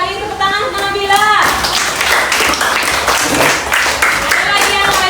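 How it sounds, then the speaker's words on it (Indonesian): A classroom of pupils claps for a classmate, a burst of many hands clapping that starts after a teacher's short spoken line and carries on steadily to the end. "Tepuk tangan untuk Nabila."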